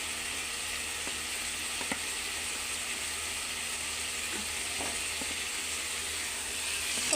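Fish sizzles and fries steadily in a hot pan, a continuous close hiss with a few faint clinks of a utensil, no talking.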